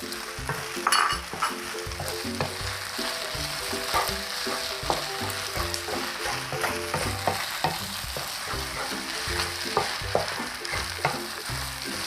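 Glass noodles with egg are stir-fried in a pan for a Thai dish, giving a constant close sizzle broken by frequent scraping and tapping of the utensil against the pan.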